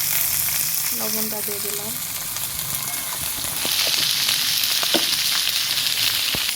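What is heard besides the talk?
green beans (borboti) sizzling as they fry in a pan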